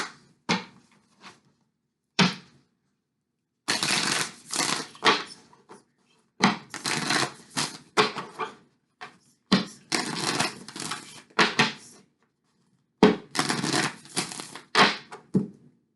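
Cards being shuffled for a love tarot reading, with several bursts of riffling and crisp slapping close by, separated by short quiet pauses and a few sharp taps.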